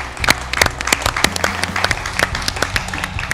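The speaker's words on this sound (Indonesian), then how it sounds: "Yo, boleh kita berikan tepuk tangan?" An audience applauds the top four contestants at a small-business pitch event, with dense, close clapping that stays loud and even for a few seconds.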